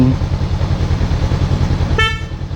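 A Honda CB500X motorcycle idles with a steady, low, pulsing rumble, then its newly replaced horn gives one short, loud honk near the end.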